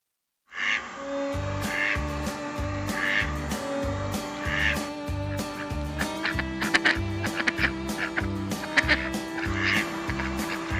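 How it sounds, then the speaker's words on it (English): Australian ducks give a run of loud, close honking quacks, repeating in a steady rhythm over a dense, sustained background of calls. "these Australian ducks can learn to swear like people"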